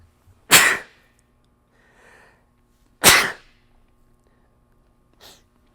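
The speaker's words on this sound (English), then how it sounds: "I gotta sneeze." Two loud, close sneezes about two and a half seconds apart, each a sharp burst, with faint breathing between and a small sniff near the end; otherwise quiet.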